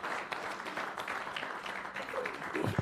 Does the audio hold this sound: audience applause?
yes